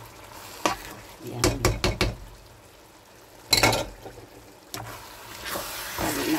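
Chopped vegetables and tomato paste stirred in a pan, with a few quick clattering scrapes and a soft sizzle, then a sharper clank and a brief stir later, with a voice speaking briefly.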